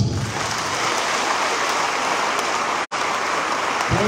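A crowd at a live press conference gives a standing ovation: dense, loud, continuous applause with a brief dropout near the end.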